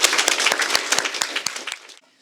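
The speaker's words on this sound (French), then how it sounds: "Donc on peut les applaudir bien fort." A crowd at an art exhibition opening applauds with brisk, dense clapping for about two seconds, then the clapping quickly dies away to near silence.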